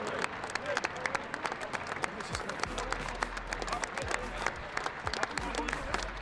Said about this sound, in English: Gordon's taking the applause